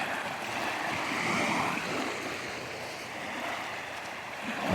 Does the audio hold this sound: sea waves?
yes